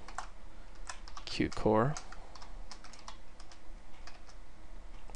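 Fast keys clatter on a computer keyboard while someone codes, the taps quick and close, with a short spoken phrase partway through.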